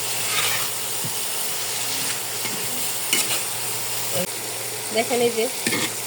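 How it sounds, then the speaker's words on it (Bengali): Prawns being fried and stirred with spices in a pan, a continuous sizzle broken by repeated scraping and clattering strokes of the spoon, with a brief spoken remark over it. "মশলাটা দিয়ে ভালো মতো একটু কষাই নেব মাছটা"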